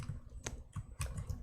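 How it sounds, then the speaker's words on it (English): Keys on a computer keyboard click in a few scattered, light taps at an uneven pace, quiet and close, with no speech. "We can get it started by first typing Docker"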